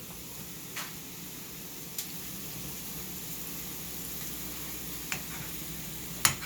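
Butter melting in a pan over a flame gives a steady soft sizzle and bubbling hiss, with a few sharp faint clicks now and then.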